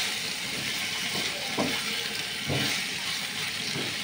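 Potatoes with turmeric frying in a pan, giving a continuous loud sizzle with a few soft stirring scrapes in it, close up and without talk.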